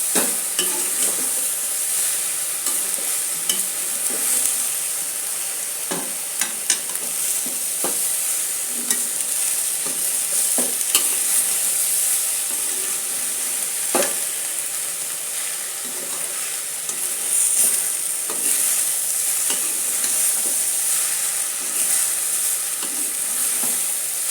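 Brinjal and cowpea curry, seasoned with salt and spice powder, fries in a pan while a spoon stirs it. A steady close sizzle runs throughout, broken by repeated scraping stirs, with no talking.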